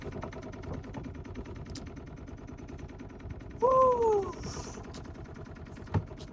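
A boat's engine idles with a steady low rumble on a sailing outing in waves, and a voice briefly exclaims partway through.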